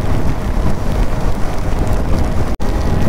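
Heavy rain falls near the swollen Godavari river in Nashik during days of continuous monsoon downpour, a loud unbroken wash of noise with rushing water in it and one brief dropout near the end.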